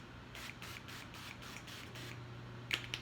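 A few short hissing bursts of cooking spray onto a donut pan, repeated in a quick steady rhythm close by, followed by a couple of light clicks.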